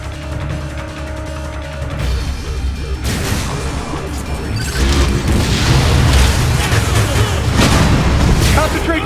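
Missile launches and heavy explosions from the video game Metroid Other M, with loud booming blasts and crashing impacts building over a tonal hum, growing denser and louder toward the end.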